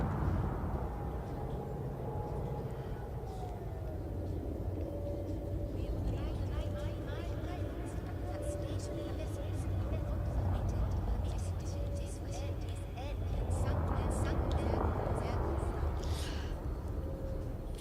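A spacecraft in the video game Elite Dangerous comes in to land with its landing gear extended. Its steady, low engine hum rumbles throughout with brief synthetic tones and clicks on top. Someone talks quietly over it.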